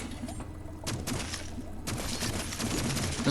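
Pistol rapid fire in the video game Dolmen, a dense run of sharp game gunshots crackling over a constant noisy backdrop, loud and close, with no clear speech.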